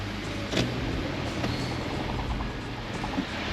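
A BMW 335 pulls away on a test drive, its engine and road noise forming a steady low rumble from inside the car with a few faint bumps and no voices.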